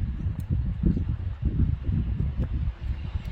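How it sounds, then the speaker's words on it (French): Wind buffets in low, rumbling gusts during a snowstorm in Isère, France, pulsing unevenly and close, with a rough, blustery roar throughout. "Et on voit, il y a du vent."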